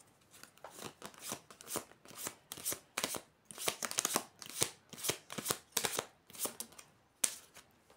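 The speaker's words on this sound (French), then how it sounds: "Il faut que je brasse." Tarot cards being shuffled by hand: quick, riffling bursts of papery flicks repeat in close succession for several seconds, crisp and near, with no talking over them.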